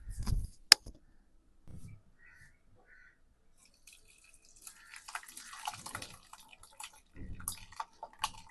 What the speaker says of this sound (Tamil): இதில் வடிகட்டி எடுத்துக்கலாம் நம்ம.